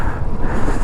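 Strong wind roars on the mountain top at Mullayanagiri, buffeting the microphone with loud, gusty low rumble throughout, up close and with no voices.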